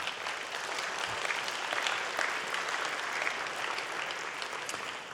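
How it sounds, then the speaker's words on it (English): A church or lecture audience claps steadily to welcome Dr. Hart as he comes forward. The applause is full and continuous from start to finish. "Give him a round of applause as he comes."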